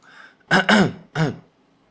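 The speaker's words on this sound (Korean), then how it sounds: "기침을 하도록 하겠습니다." A person coughs deliberately into a nearby microphone: two quick back-to-back coughs, then a third after a short pause, loud and dry against near silence.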